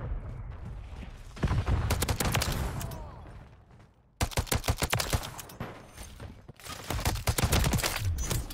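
Bursts of rapid gunfire from the Modern Warfare 3 video game, a DM56 rifle among them, arrive as clusters of sharp close shots separated by short pauses, loud and crisp with almost no talk.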